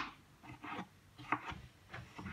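A knife cuts cucumbers on a cutting board in a home kitchen, giving soft, rasping strokes with a few sharper taps, quiet and close.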